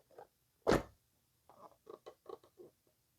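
Plastic body pulled off an ARRMA Quake brushless 2WD RC truck by its red pull tabs, one sharp scraping rip followed by a string of soft clicks and rustles, close and quiet.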